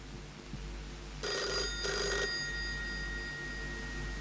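An old-fashioned telephone bell rings twice in two close metallic bursts, heard indoors over a low steady hum.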